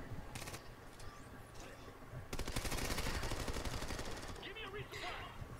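An MK48 light machine gun fires in Ghost Recon Future Soldier, with short bursts followed by a long sustained rattling volley, loud and close, under occasional talk.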